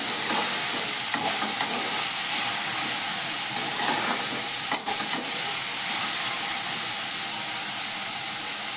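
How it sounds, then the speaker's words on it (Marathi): Radish leaf greens sizzling and hissing in a pan while salt is stirred through them, a steady close frying crackle with faint scraping of the spoon, no voices. "आता हे आपलं सगळं मीठ असं मिक्स करून घेऊया."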